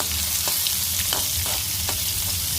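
Curry leaves and chopped onion fry hard in a pan for a chowchow and moong dal kootu, a dense continuous sizzle with several spoon scrapes and taps breaking through.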